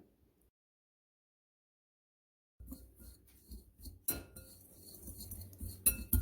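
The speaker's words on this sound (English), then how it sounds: "just use a whisk and whisk this up" Silence, then a metal whisk stirring dry rub spices for pork butt in a bowl, with quick scraping and clinking strokes against the bowl that grow busier and louder toward the end.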